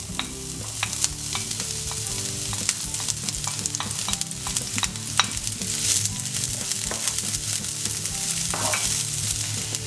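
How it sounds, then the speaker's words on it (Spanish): Spring onion frying in hot oil in a pan, with steady close sizzling and a run of sharp scraping taps from stirring throughout, no voices. "Ponemos un poco de aceite en la sartén, al fuego, y ponemos dentro la cebolleta."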